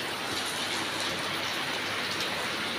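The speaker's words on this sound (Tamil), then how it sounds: "எங்க ஊரு மழையே பெய்யுது பாருங்கள்" Steady rain falls in Kerala, a dense, continuous hiss and patter on surfaces, loud and close with no pauses.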